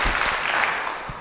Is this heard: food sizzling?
no